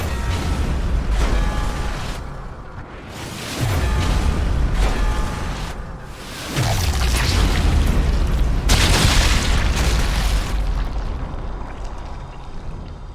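Heavy explosions from landmines or trip mines in Sniper Elite 5, several deep booms at intervals with rumbling decay over a continuous loud game soundscape.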